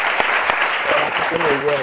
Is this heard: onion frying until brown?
no